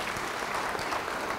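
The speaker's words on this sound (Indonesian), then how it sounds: "Beri tepuk tangan buat Tuhan" Church congregation clapping together, a dense, even patter of many hands sounding somewhat distant and moderately quiet, continuing steadily without voices on top.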